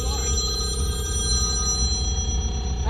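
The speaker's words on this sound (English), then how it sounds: "I gotta take this phone call" A telephone bell rings steadily and loudly nearby in a garage while work goes on around a 1982 Mercedes 380SL, with a constant background hum beneath the ringing.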